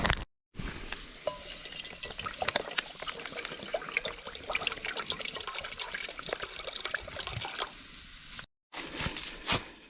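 Two cups of boiling water pour and splash into a heat-resistant serving bowl at a campsite, a steady trickling and bubbling wash broken by brief handling clatter.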